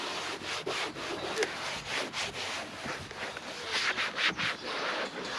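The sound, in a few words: wiping car surface with microfiber cloth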